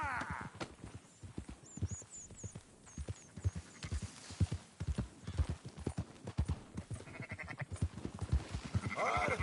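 Sheep bleat repeatedly over steady clip-clop of horse hooves in Red Dead Redemption 2, a herd being driven along with hoofbeats close and rhythmic and a few higher bleats and whinnies scattered throughout.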